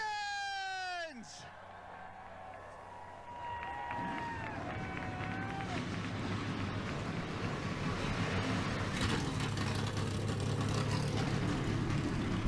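Stock car engines fire up at Watkins Glen in NASCAR Racing 2003, rising from scattered revving into a dense, growing roar of many engines after a sweeping whistling tone, with talk over the top.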